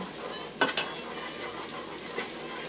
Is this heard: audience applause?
no